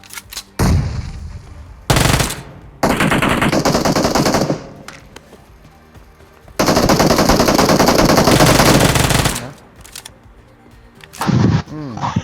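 Machine gun fire in PUBG Mobile rips out in several long, loud automatic bursts separated by short pauses, close and dominant over quieter game sounds.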